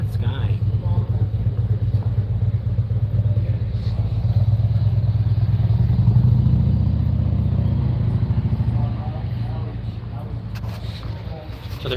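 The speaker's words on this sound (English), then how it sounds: "So there's some motorcycles here." Motorcycles at the Sturgis Motorcycle Rally on Iron Mountain Road rumble steadily nearby, the engine drone swelling as bikes pass and then easing, with someone talking over the noise.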